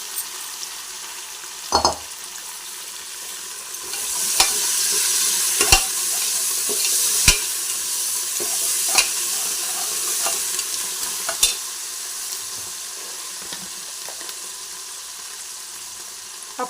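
Spices for a country chicken curry fry in a hot pan, a steady sizzle broken by repeated sharp scrapes and clanks of a spoon stirring, close and with no talk.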